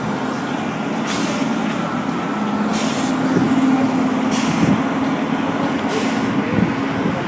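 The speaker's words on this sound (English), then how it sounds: "how the bus is moving" A bus rolls past with a steady low engine drone and a faint tonal whine, while four short, sharp air-brake hisses burst out at roughly even intervals.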